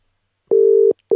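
Telephone call tones as a number is dialed out: a loud steady ringback or busy tone lasting about half a second, a short gap, then the tone starting again, with no voices.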